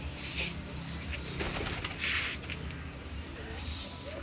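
Pigeons kept in a Punjabi home loft, including a red Cheena, coo softly in low rolling murmurs, with a few faint chirps above and a steady background hum.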